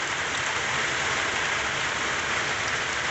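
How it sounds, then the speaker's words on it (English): Heavy rain streams down a length of clothesline wire into a small barrel, a steady, dense hiss of falling water throughout with no let-up. "So it's quite a bit of rain coming down the wire and into the little barrel."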